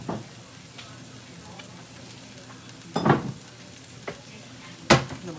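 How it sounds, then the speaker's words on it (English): Rice with a few drops of soy sauce sizzles steadily in a hot pan, with a spoon scraping and stirring in a few distinct bursts, close and fairly quiet. "I'm going to stir that up."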